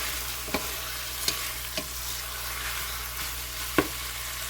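Bacon fries in a pot with a constant sizzling hiss while a utensil stirs it, giving a few distinct scraping knocks spaced across the sound.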